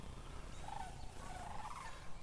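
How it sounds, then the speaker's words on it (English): Flock of geese flying over a golf course in cool autumn weather, faint distant honking calls drifting above a steady low outdoor rumble, with no talk. "A flock of geese flying over."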